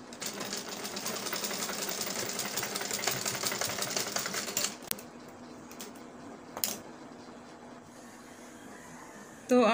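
A sewing machine stitches a half collar onto a round kameez, running in a fast, steady rattle of needle strokes for about five seconds before stopping. Faint handling clicks and quiet room sounds follow.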